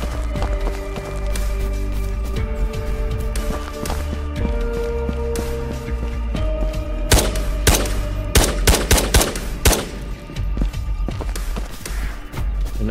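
Rapid gunfire from a Ghosts of Tabor firefight, with dense bursts and sharp single shots, loud and close, mixed with clattering game sounds and footsteps throughout.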